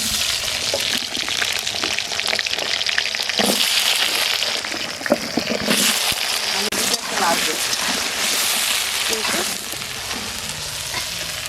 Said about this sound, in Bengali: কেটে ধুয়ে রাখা আলুগুলো ভেজে নিচ্ছি।